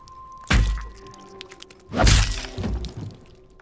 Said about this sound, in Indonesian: terdengar suara bacokan membuat Jules terkaget-kaget